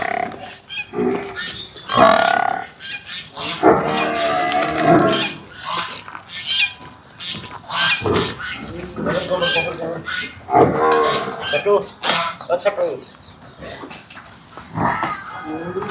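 Murrah buffalo being unloaded at a dairy farm, lowing and bellowing in repeated loud, close calls, with people talking nearby.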